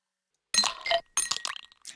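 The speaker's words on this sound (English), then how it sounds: "That's the sound when a Jerry will spawn." A video game sound effect plays when a Jerry spawns: two quick, bright, glassy clinking chimes in close succession, crisp and moderately loud, with no talk over them.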